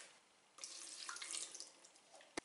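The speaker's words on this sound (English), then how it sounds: "Fill this with water up to that line, bang on 80 millilitres." Water running into a Tommee Tippee electric steam steriliser, a steady hiss of filling that starts abruptly partway in, ending with a brief sharp knock.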